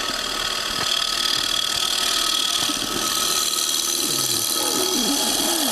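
A shear scraping tool drawn across metal gives dry, gritty scraping strokes. Sounds of handling run beneath the scraping, and it continues steadily with no talking.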